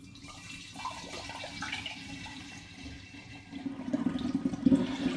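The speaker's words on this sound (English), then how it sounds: "And now continuing the pour into the second demijohn." Home-brewed Aperol being poured into a glass demijohn, a continuous liquid trickle and splash that grows louder and fuller toward the end, with no voices.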